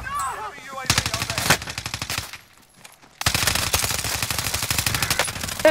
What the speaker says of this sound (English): Ah, I'm taking fire!